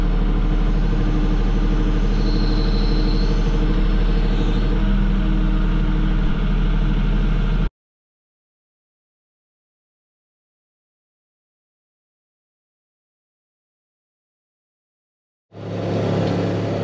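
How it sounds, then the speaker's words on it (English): A Kubota tractor with a loader runs with a steady, loud, close engine drone for about eight seconds, then cuts to silence before the engine sound returns near the end, with no talk. "Kubota really did a good job on this tractor with the loader and the transmission."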